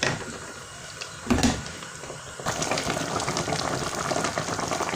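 A pot of soup with chili simmers close by, a continuous bubbling hiss with a short louder clatter early on before the steady simmer resumes.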